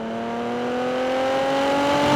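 Lotus Evora GT with a supercharged Toyota 3.5-liter V6 revving, a smooth rising engine note climbing steadily in pitch and loudness over a couple of seconds, close and without talk.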